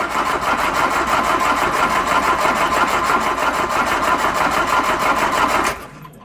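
A Volvo Penta marine engine cranks over on the starter during a compression test, a fast steady rhythmic chugging that runs loudly for several seconds then stops abruptly.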